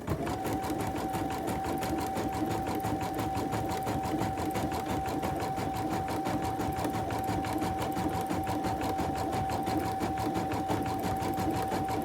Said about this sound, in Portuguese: a máquina vem fazendo um zigue-zague para prender a minha lateral